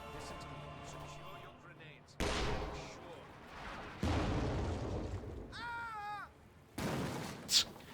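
An infantry support gun fires artillery in Company of Heroes 2: several heavy booms land in turn amid battle noise, with a whistling shell and other effects, while someone talks over the action.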